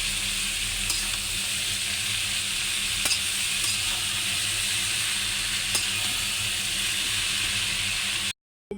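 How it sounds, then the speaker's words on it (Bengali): Sliced papaya with salt and turmeric frying in a pan gives a loud, steady sizzle with a few faint stirring clicks, cutting off just before the end. "আজকে পেঁপি ভাজি করবো"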